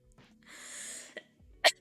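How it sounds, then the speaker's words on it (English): One person gives a light, tired cough: a soft breathy burst followed by a short sharp expulsion, heard close up in a quiet room. "I keep slightly coughing because I'm tired"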